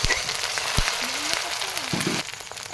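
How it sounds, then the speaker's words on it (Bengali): Ginger and garlic paste frying in a pan, a soft, steady sizzle with faint scattered crackles and a brief voice-like murmur. "আদা রসুনটা ভালো করে ভেজে নিই"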